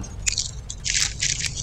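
Close, crisp crunching of Doritos being bitten and chewed, several sharp bursts spread over a brief moment against a quiet low hum.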